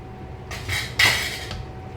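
A utensil stirs hot water into a metal pot for a noodle dish, two or three metallic scrapes and clinks close by over a quiet background hum.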